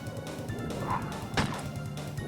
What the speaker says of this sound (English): I know it's a zombie dog, and it has murderous intent, but I'd still don't like shooting dogs